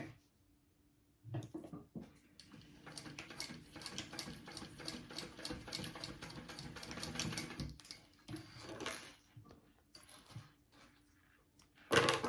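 A sewing machine runs two lines of stitching across a zipper tab for a small sling bag, a fast rattling mechanical whir with brief pauses and restarts, close and clear, with quiet handling noises between runs.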